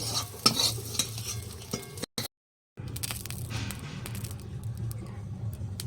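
Cumin seeds and bay leaf hit hot oil in a wok, giving a close sizzle with scraping stir sounds, briefly cut to silence midway before the frying resumes.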